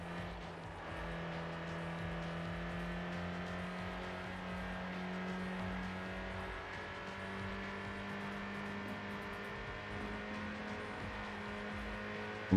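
A Mazda Miata engine in Gran Turismo on PSP, holding a steady, fairly quiet hum at nearly constant revs with no talk and little change in pitch.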